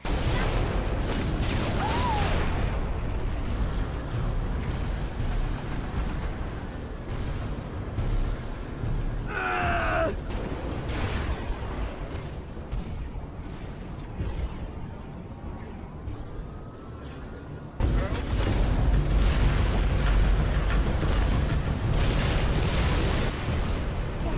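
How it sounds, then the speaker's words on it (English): Repeated firebomb blasts in the Halo 3 Scarab battle, a dense run of booming explosions and bursts filling the whole stretch, loud and continuous with a brief rushing flare near the middle and a heavier surge toward the end. "all it came down to really was just hurling firebomb after firebomb"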